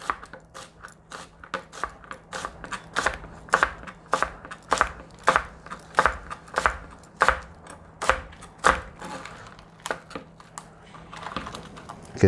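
A knife chops green onions on a cutting board with crisp, regular thuds, some forty close strikes in a steady rhythm with a few faster runs, with no voices over them.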